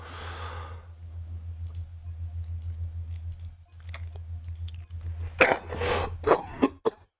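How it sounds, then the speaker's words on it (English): A person coughs and clears their throat in several close, harsh bursts toward the end, after quieter breathing and faint clicks over a steady low hum. "Sorry about the coughing."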